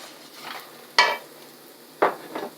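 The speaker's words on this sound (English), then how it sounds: "Now we're going to add the white part of the green onions." Chopped white parts of green onion hit a pan with garlic and ginger, giving sharp bursts of sizzle as they are tossed and stirred, two loud scraping stirs standing out over a faint frying hiss.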